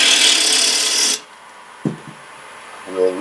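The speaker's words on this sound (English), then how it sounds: "I'm trying to get in here now to get a tenon on" A woodturning tool cuts a tenon on a spinning wooden piece on a lathe, giving a loud, steady, near scraping rasp for about a second. It then stops abruptly, leaving quiet with a brief knock and a faint hum.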